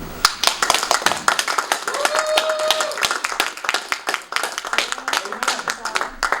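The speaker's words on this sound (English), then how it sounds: "let's applaud them" An audience at a ministry workshop claps in loud, close, uneven bursts of applause, with a voice speaking over part of it.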